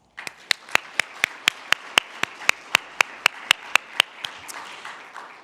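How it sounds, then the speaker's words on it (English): A single person clapping in a steady, evenly spaced rhythm, about twenty sharp close claps over several seconds, with a faint room murmur beneath and no talking. "Please give yourselves a round of applause."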